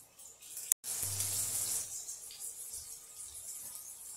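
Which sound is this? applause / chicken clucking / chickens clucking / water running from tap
water running from tap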